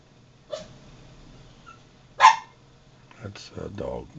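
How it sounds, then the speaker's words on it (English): A dog being pet-sat barks indoors in a few sharp, separate yelps spaced over several seconds, with people talking quietly nearby. "That's a dog we're sitting for somebody."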